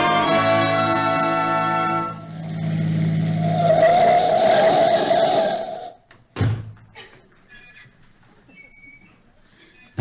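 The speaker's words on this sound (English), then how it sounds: "We'll jump in the car and be there in a few minutes." Old-time radio sound effect of a car starting and driving off, engine hum building under a rising whine for several seconds, then a sharp thump near the end and fading quiet.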